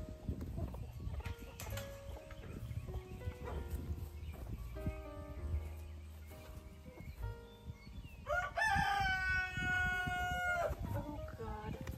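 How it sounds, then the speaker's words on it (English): Backyard chickens loose from their coops cluck and chatter at a moderate distance, with a loud rooster crow rising in the latter part of the scene. "I have got some chickens that are not staying in their coops"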